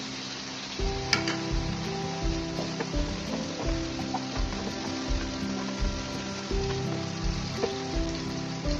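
Butter sizzling in a pan while cooking masala corn chaat with green capsicum, a steady crackling fry with occasional stirring clinks and scrapes, close and continuous with no talking.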